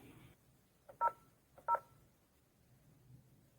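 Two short DTMF keypad tones beep in quick succession while a programming code is entered on a Panasonic KX-TES824 phone system, clear and close against a quiet background.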